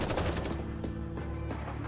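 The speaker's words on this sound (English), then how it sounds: "Dobin's troops fall to the ground in a hail of gunfire." Rapid automatic gunfire in the Nikke video game, a dense sustained burst of shots rattling continuously for a couple of seconds with no speech.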